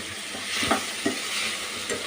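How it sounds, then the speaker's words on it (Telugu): Chicken frying with masala in a pan, with a steady close sizzle and a few soft scrapes as a spoon stirs the mixture, and no speech. "చూడండి ఇలా బాగా ఫ్రై చేశాక చికెన్ కూడా వేసుకోవాలి"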